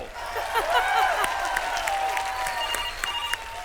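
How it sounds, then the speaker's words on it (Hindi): Audience applause on a Hindi comedy stage show, a broad wash of clapping from a studio crowd, steady and even, with faint musical tones over it. "तालियां बजाओ"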